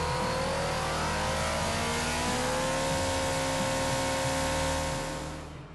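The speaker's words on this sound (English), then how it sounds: "the last half hour is always spent on a test bench, with the engine running at every speed from idle to redline." MV Agusta motorcycle engine running on a factory test bench, a loud sustained mechanical drone with steady harmonic tones that climb in pitch as it is revved, continuous and close, fading slightly at the end.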